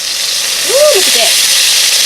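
Soy sauce hitting hot oil in a pan for a pork and noodle stir fry gives a loud, steady hiss and crackle throughout, with a voice exclaiming briefly over it.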